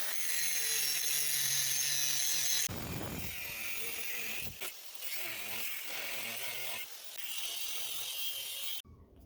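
A power tool cuts the profile of a hand-forged San Mai chef knife from steel, a loud buzzing grind that shifts in pitch and pressure and pauses briefly between passes.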